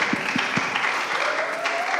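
A church youth gathering gives a round of applause, a dense crackle of clapping from a crowd in a hall with a few sharp individual claps standing out, continuing steadily for a couple of seconds.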